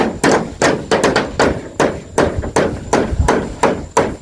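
Repeated hammer blows ring out at close range, a steady series of sharp, loud impacts roughly every half second while a house is under construction in Thailand.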